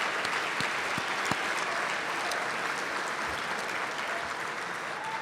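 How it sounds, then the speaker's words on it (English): Dense audience applause fills a hall at a medal of valor ceremony, steady and sustained throughout with a few sharper nearby claps, no voices over it. "Can we just give her a quick round of applause?"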